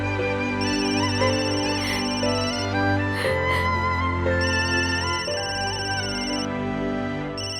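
A phone plays a melodic ringtone for an incoming call, loud and continuous, with a repeating tune that sounds alone throughout.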